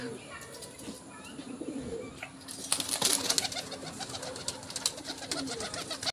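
Pigeons at a pigeon farm near Delhi and Karnal, of the Baba Dhanne Wali breed, coo and stir in a steady low background throughout, with a busier burst of bird activity midway and someone talking over them.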